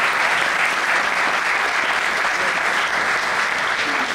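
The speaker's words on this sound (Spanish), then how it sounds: "Un aplauso, por favor." A lecture audience at a forum on the international community and the defense of democracy gives steady, sustained applause for the speaker Diego Arria. The even, dense clapping fills the whole stretch, with no talking over it.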